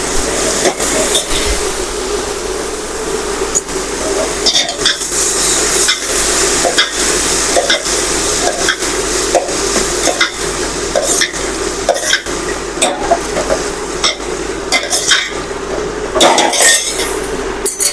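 Cabbage curry being stirred in a pan, heard as loud, close clinks and scrapes of a spoon against metal repeating irregularly over a soft frying hiss, with no talk.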